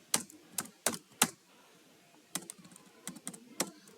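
Java code being typed on a computer keyboard: a burst of four sharp clicks, a pause of about a second, then a looser run of lighter keystrokes, close and clear with no talking.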